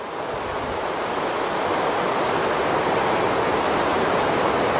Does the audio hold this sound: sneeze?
no